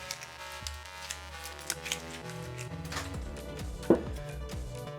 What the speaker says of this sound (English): We will remove the foil.